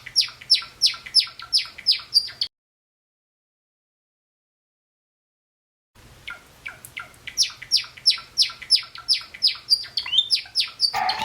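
A Java sparrow gives rapid runs of bright, high chirps in quick pulsing series, close and clear, with a silent gap partway through before the chattering resumes and continues to the end.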